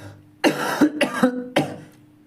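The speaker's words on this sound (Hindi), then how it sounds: "देख खांसी हो गया" Four harsh coughs in quick succession, close and loud, each a short explosive burst with a brief rasp trailing after it.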